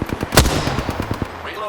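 Rapid gunfire from a video game rattles in quick, close bursts, with one loud sharp shot standing out early and a short sweeping tone near the end.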